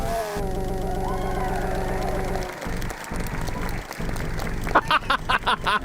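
A burst of canned applause breaks out near the end, sharp and choppy, after a stretch of steady, harmonised, music-like tones.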